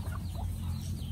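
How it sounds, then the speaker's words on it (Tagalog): Chickens cluck softly nearby in a short burst of low, throaty clucks over a faint background murmur. "Dito yung mga manok ko."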